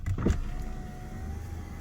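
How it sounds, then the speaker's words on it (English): An Audi A5 Sportback's frameless door glass slides down on its power window, a short close electric motor whir after a faint click inside a quiet car. "In frameless doors, you can actually lower the glass"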